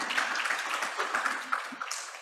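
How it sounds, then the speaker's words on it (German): An audience at a lecture on social inequality applauds briefly with a soft, dense patter of clapping that fills the full two seconds at moderate distance. "Ja, Applaus dazu."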